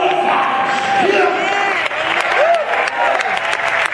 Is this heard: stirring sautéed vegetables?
no